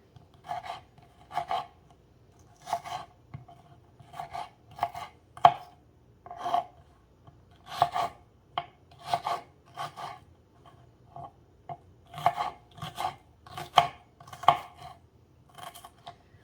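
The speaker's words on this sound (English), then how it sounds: "So I'm dicing my onions up extra small." Knife dicing a small red onion finely on a cutting board: a long run of quick, crisp chops in uneven bursts, close and clear with no talking.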